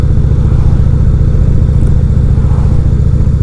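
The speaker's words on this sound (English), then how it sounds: "out on a demo ride this morning on a 2016 Indian Roadmaster." A 2016 Indian Roadmaster touring motorcycle with a Thunderstroke 111 engine rumbles steadily at cruising speed, a loud, continuous low engine drone with road and wind noise and no talking.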